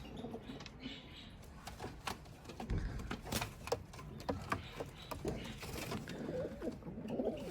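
Young Hünkari pigeons coo softly among scattered knocks and rustles in a loft, faint calls coming and going with no clear talk.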